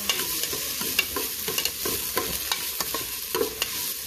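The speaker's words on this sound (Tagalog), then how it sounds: "Then i-add po natin tong bawang at saka sili." Garlic and chili sizzle steadily in a hot pan while being sautéed for Visayan-style white adobo with coconut milk, with frequent light stirring scrapes and taps over the constant frying hiss.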